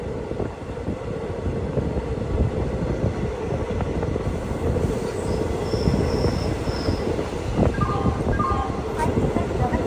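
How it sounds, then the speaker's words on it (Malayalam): The Nilgiri Express rolls into Arakkonam Junction station with a continuous rumble of wheels on rails, rhythmic clatter and brief squeals, close and steady, with a short horn-like tone and station voices faintly in the background. "10:20 ട്രെയിൻ ഇതാ അറക്കോണം ജംഗ്ഷൻ റെയിൽവേ സ്റ്റേഷനിലേക്ക് എത്തിക്കൊണ്ടിരിക്കുകയാണ്."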